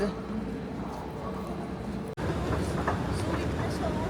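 Rail station ambience at Stuttgart during a train transfer, a steady rumble of trains and platform noise with a brief dropout midway and voices mixed in.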